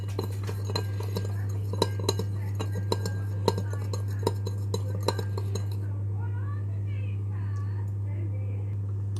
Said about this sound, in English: I'm just going to give it a stir.